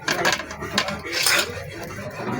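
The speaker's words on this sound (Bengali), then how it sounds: "তাহলে চলো পেঁয়াজগুলো কেটে নিই।" A knife chops onions on a board and clinks against kitchen utensils while a prawn, coconut and banana flower dish is prepared, a few short close scraping cuts and taps at moderate volume.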